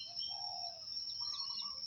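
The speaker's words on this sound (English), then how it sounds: "All the birds and the sounds and the silence." Birds chirp outdoors in short, soft calls against a steady high insect-like whine and a low background murmur, with no voices present.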